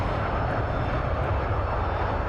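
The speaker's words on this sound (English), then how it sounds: "The engine sounds are good." A steady, loud aircraft engine drone from Microsoft Flight Simulator, playing alone as an unbroken broadband roar.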